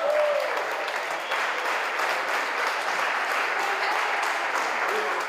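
Steady applause from a gathered crowd welcomes Play airline pilots meeting colleagues in Hafnarfjörður, a dense, even clapping that holds at a constant level throughout without pause.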